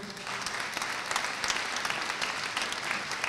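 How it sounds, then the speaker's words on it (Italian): The audience at a Christmas concert in Carpignano applauds steadily, a full, even roar of many hands clapping without pause. A faint murmur of voices sits beneath it. "Facciamo un forte applauso."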